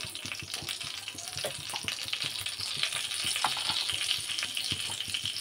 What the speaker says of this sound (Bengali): এই যে কালো জিরে, একটু জিরে ফোড়ন